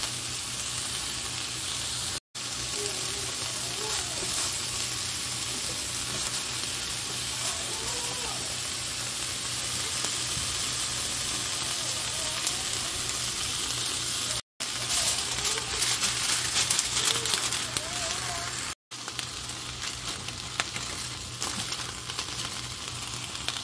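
Chiles and tomatoes roasting on aluminium foil over heat give a loud, steady broadband sizzle and hiss with faint crackles, continuous for over twenty seconds with a few brief dropouts.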